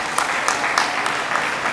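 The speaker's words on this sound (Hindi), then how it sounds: "मैं अपन सब उनका तालियां बजा के धन्यवाद करना चाहिए" Gathering at Shirdi applauding to thank pilgrimage organisers, a short burst of dense, even clapping heard throughout.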